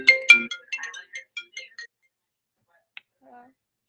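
A mobile phone ringtone plays a quick run of bright, chirpy electronic notes for about two seconds, close and clear, followed by a near-silent pause broken by a tick and a faint low sound.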